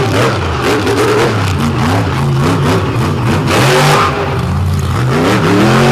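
A truck pull competition truck with electronic fuel injection revs hard and loud under full throttle, its engine pitch rising and falling in continuous surges over crowd and arena noise.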